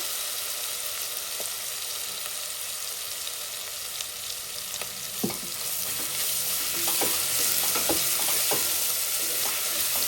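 Spices frying with turmeric and ginger-garlic paste for a drumstick and tomato curry, a steady sizzle with occasional scrapes and clinks of a stirring spoon against the pan, with no voices.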